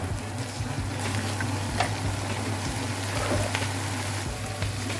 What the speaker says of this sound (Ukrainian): Додаємо цибулю. Обсмажуємо.